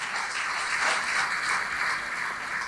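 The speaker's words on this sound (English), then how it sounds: "Let's give them a round of applause, ladies and gentlemen." Audience applause at a girls' high school centenary celebration in Mount Lavinia, a steady wash of clapping from a sizeable crowd, moderately distant, sustained throughout with no talking.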